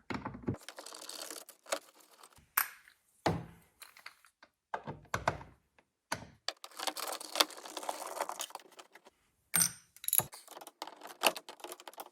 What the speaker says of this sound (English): first thing we're gonna do is take 4 bolts off of this airbox